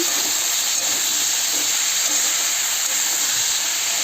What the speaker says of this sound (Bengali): তেলটা গরম হয়ে গেছে, তেলে কুমড়োগুলো দিয়ে দেবো।